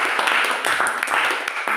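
Brief burst of clapping from a class group during a university teaching exam session, steady dense hand claps for under two seconds.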